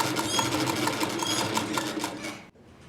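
Sewing machine stitching along the side of a piece of cloth, a rapid, even mechanical clatter running close and steady for over two seconds before stopping abruptly.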